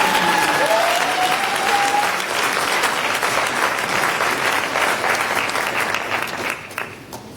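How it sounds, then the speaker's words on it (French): Sustained, loud applause from an audience for a speaker giving a speech, a dense wash of many hands clapping that holds steady and tapers slightly near the end. "Sous vos applaudissements"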